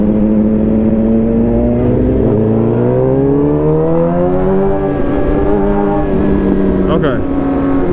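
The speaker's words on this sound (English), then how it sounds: "this is Dallas traffic" A sportbike engine hums loudly up close in Dallas traffic, its pitch rising and falling as the rider eases along, with steady wind rumble underneath and voices over the top.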